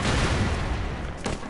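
Dense, continuous gunfire and explosions from the side-scrolling action game BroForce, a loud, unbroken barrage lasting the whole moment with no pauses.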